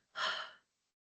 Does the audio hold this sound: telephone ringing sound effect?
no